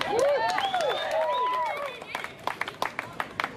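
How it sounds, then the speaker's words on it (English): Audience at a 138th annual Canadian July 4th celebration claps for the builders of a chicken drop bingo cage; a voice speaks at first, then scattered, uneven hand claps ring out nearby. "Let's give a round of applause to the guys who did that work."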